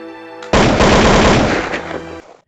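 Gunfire in an animated Hindi story: a sudden loud, rapid burst of shots after a brief sustained tone, rattling for under two seconds before cutting off, with no speech over it.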